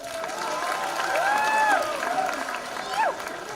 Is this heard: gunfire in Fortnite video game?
no